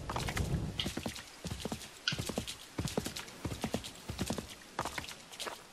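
Horse hooves clip-clop in a brisk, steady trot in Assassin's Creed III, with the rhythmic hoofbeats clear and continuous throughout.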